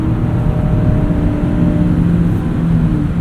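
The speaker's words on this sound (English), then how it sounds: "And the engine also sounds a little bit different." A 2017 Mazda MX-5 Miata RF engine runs steadily at cruising speed, a close, continuous low hum and drone with faint road noise and no talk.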